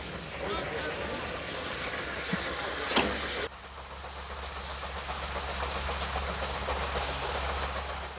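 An RhB steam locomotive, one of the last series of engines, numbers 107 or 108, runs on the Albula line with a steady hiss and rumble of rolling wagons and faint clickety-clack. A voice talks over the train throughout.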